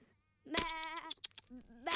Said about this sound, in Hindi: अरे, वो मेरी भेड़ें हैं।